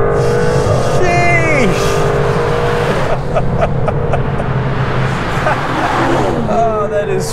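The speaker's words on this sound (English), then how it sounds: "What does a twin turbo V12 with all this power and torque feel like? Well, let's drop a cog." An Aston Martin DBS Superleggera twin-turbo V12 roars hard after a downshift on a flat-out drive in Germany, engine note climbing through rising whines and blips, loud and close inside the car, with a brief exclamation over it.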